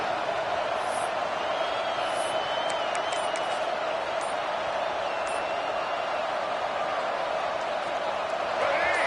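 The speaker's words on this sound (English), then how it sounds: "Big 3rd down as the crowd gets behind this defense" A football stadium crowd roars steadily behind the home defense on a big third down, a dense, loud wash of cheering that holds for the whole stretch under a commentator's voice.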